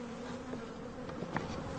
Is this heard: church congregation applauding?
no